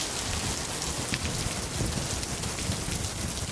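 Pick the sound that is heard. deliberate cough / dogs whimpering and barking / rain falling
rain falling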